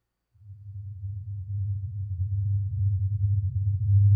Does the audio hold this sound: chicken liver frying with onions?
no